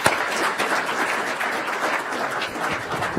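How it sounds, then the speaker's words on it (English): A crowd applauds at the close of a dialogue session honoring a commissioner, a dense, steady wash of clapping held loud and even for the whole stretch with no voices over it. "a round of applause for Commissioner Clark"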